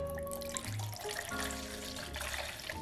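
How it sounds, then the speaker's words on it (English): Plymouth gin poured into a measuring cup trickles and splashes softly in a steady stream, quiet and close, with a brief change in pitch partway through the pour. "So just add 15 ounces to your measuring cup."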